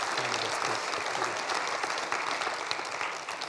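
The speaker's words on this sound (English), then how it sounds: "Let's get another round of applause for your" An audience at a municipal election all-candidates forum applauds the candidates, a continuous crowd clapping that holds steady and tapers slightly at the very end.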